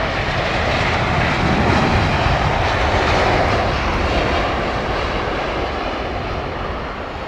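Boeing 747 landing at London Heathrow Airport, a broad continuous roar of jet engines and rushing air, loud and steady, easing slightly toward the end.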